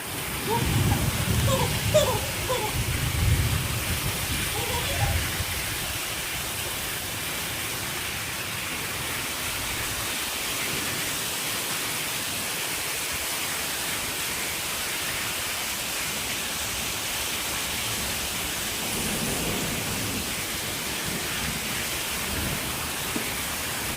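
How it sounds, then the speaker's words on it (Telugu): Dense, steady rain hisses continuously, a broad roaring wash that stays constant throughout, with some louder low rumbling early on. "చూసారా అండి ఎంత వర్షం పడుతుందో"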